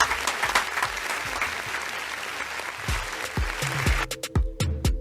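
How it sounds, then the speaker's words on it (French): An audience claps for a rapper being introduced at a Fête de la musique show of Chadian artists, sustained applause at moderate level broken near the end by sharp, separate claps and knocks that sound close to the recorder. "On va l'applaudir s'il vous plaît, la famille."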